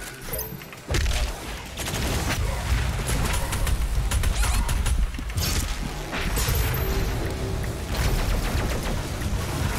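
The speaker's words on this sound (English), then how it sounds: "they're still shooting at me" Enemy gunfire rattles in Doom Eternal, rapid dense volleys of shots and crashing impacts that start abruptly and keep up loud and continuous, with only short dips.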